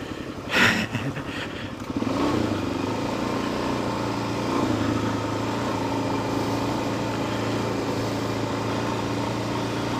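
A motorcycle engine runs steadily and close by, a low, continuous drone that starts after a brief clunk and holds at an even level throughout.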